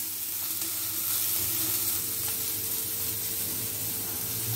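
Filling for a flour dough roll frying in a pan over a medium flame, a continuous dense sizzle holding steady and fairly loud throughout, close up and without speech.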